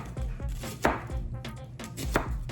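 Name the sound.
cutting an onion with a hot knife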